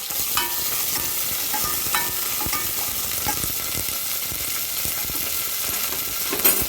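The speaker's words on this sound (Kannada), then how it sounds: "ಎಲ್ಲ ಫ್ರೈ ಮಾಡ್ಕೊಳ್ಳೋಣ." Mustard seeds, curry leaves, dry red chilies and garlic fry in hot oil for a rasam tempering, giving a steady, loud sizzle with crackling pops throughout, close up, with no talking.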